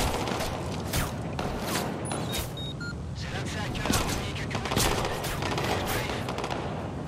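Machine gun fire in a Watch Dogs 2 firefight with police: a dense, continuous rattle of rapid shots across the whole stretch, with a player's voice talking over it.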